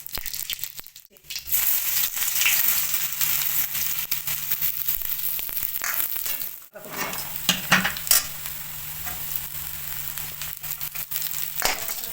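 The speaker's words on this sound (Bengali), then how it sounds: "কড়াইতে তেল দিয়ে দিয়েছি, তেল গরম হয়ে গেছে। এবার দিয়ে দেবো পাঁচফোড়ন।" Loud, continuous sizzle of panch phoron spices hitting hot oil in a kadai, a brief lull, then renewed crackling with stirring and scraping in the pan, close by.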